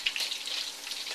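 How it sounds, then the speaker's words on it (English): Shrimp deep fry in hot oil a second time, giving a soft, even, high hiss of bubbling oil that holds steady for just over a second, fairly quiet and with no voices. "And we're going to fry these one more time."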